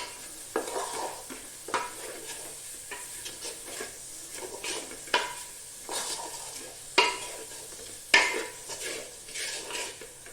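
Onions with a little salt sautéing in a pan for biriyani, a soft sizzle broken by repeated spoon scrapes and knocks against the pan at irregular intervals, close and fairly quiet, with no talking.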